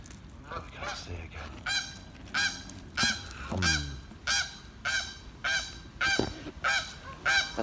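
A goose of unknown species, kept alongside mute swans, honks repeatedly and loudly at close range in regular bursts roughly every second, with brief quiet gaps between the calls.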